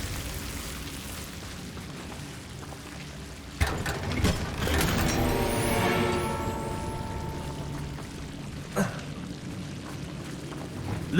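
A Confringo fire spell from Hogwarts Legacy goes off with a sharp burst, followed by a loud, sustained roaring blast that rumbles on for several seconds before a second, smaller burst near the end.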